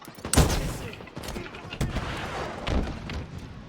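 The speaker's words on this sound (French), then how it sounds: "J'ai entendu un lance-roquette" Rocket launcher blasts boom out during a Halo Infinite multiplayer match, with a few sharp explosive bursts mixed into surrounding gunfire.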